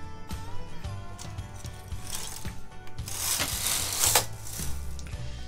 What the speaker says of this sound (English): Then we pull out the needle on this side of the carriage.